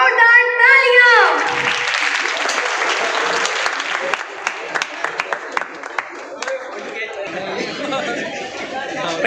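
Crowd claps for badminton winners at a college annual sports ceremony; an announcer's amplified voice opens, then scattered applause and chatter continue, with sharp individual claps standing out.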